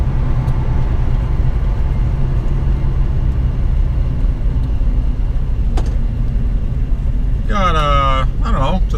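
A 1969 Dodge Charger cruising along a parkway gives a constant low, heavy engine and road rumble from inside the car, with a brief voice near the end.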